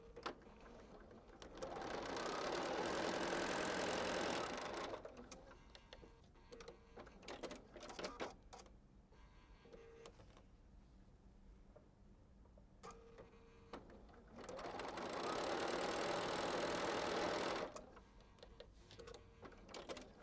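A sewing machine stitches quilt pieces in two steady runs of about three seconds each, separated by quieter ticks and handling clicks between seams.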